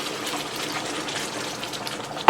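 Water pours steadily into a pan of browned lean beef for taco hotdish, a continuous splashing gush lasting about two seconds that ends with a short knock.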